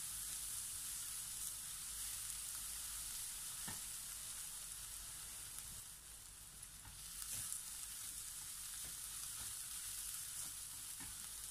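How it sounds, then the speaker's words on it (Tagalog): Garlic sautés in a hot pan for mapo tofu, giving a steady, close sizzle that runs throughout, with a few faint clicks from stirring and no voices. "ilalagay na natin ngayon ang ating garlic. And ituloy natin ang ating paggisa for another 30 seconds."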